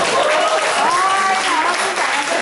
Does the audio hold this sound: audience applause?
yes